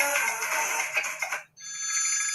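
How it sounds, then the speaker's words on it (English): A mobile phone's ringtones being cycled through as settings are adjusted, with a dense melodic tone that cuts out briefly and then switches to a different steady ringtone, fairly close and clear with no talking. "I'm just adjusting my bloody dial tones and all, my ringtones"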